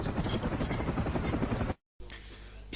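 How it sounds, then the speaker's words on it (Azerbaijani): A helicopter used as a comedy sound effect: dense, steady rotor chop and engine drone running loudly for nearly two seconds, cutting to brief silence, then resuming more faintly. "Qayıfdasan, vertolyotla gedəcəksən."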